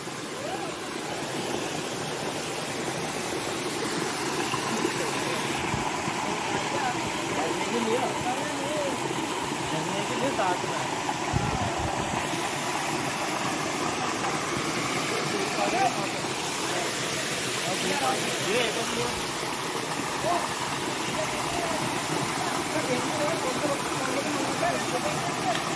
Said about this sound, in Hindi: ये देखिए काफ़ी कितना शानदार झरना बह रहा है।